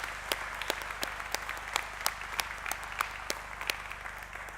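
A graduation ceremony audience at Ulster University Coleraine claps in a broad hall, a steady wash of applause with sharp individual claps standing out near the microphone, moderately loud and continuing throughout.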